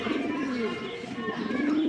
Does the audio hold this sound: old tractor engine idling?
no